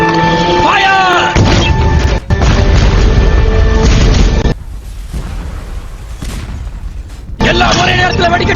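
Cannon fire aimed at the governor's mansion during the Wuchang Uprising: loud, deep booms and crashing blasts dominate, with a shouted command and dramatic music around them.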